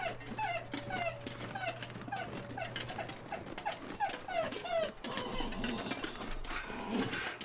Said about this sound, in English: my dog makes such cute noises when he's playing with a bone.